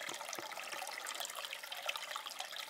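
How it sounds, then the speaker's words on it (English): A small stream of water trickles over logs near a woodland road, a faint, busy patter of drips and gurgles running steadily with no talk. "A little bit of water running through there"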